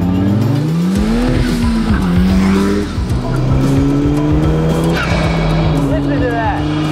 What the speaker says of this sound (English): The sounds vary from blow off to air moving to miter saw to cat calls.